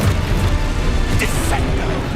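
Spells cast in the video game Hogwarts Legacy, a fiery Confringo blast and a forceful Depulso push, form a dense, loud rush of magical whooshes and bursts with a brief sharper flare midway through.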